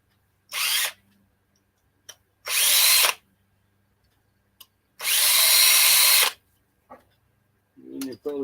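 A power drill drives small screws with a bit in three loud, close bursts of whirring, each one to one and a half seconds long, separated by quiet gaps with faint clicks.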